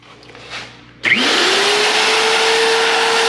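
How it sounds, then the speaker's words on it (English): A power drill spins up sharply and runs at a steady high whine while boring holes in a lowboy trailer, loud and close, after a quiet moment of faint background noise. "Let's drill some holes"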